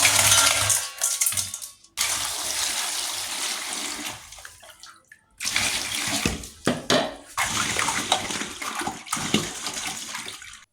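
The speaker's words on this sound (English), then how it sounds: "So the first step after getting your eggshells is to clean them thoroughly." Eggshells rinsed under a running tap, a loud close splashing gush of water with clinks and rattles as the shells are handled, cutting off and starting again several times.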